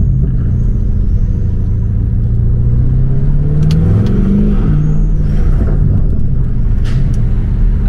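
A Lamborghini Urus with a full Milltek exhaust revs between walls, its deep, loud rumble swelling and falling with the throttle and heard close up throughout.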